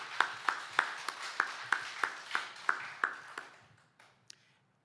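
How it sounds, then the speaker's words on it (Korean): A church congregation claps in unison during a Korean sermon, a steady rhythm of about a dozen sharp, evenly spaced claps that slow and fade into a few scattered final claps. "우리 하나님께 영광의 박수 올려드리겠습니다"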